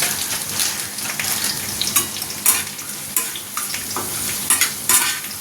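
Ingredients frying in a pan with raisins and dry fruits as a pinch of turmeric goes in, a steady close sizzle broken by several sharp scraping stirs of a spoon, with no talk.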